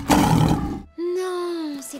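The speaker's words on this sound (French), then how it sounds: "Non, c'est un lion, ça." A cartoon lion gives a sustained roar that holds steady and then trails off, following a burst of noisy animated sound effects.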